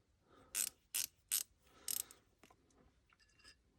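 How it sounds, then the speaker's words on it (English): A Vidor ratcheting wrench, one of a 10mm reversible and straight pair, gives four sharp, close clicks spaced about half a second apart, then fainter light ticks in a quiet room. "one of the very few non-Taiwanese made options for ratcheting wrenches"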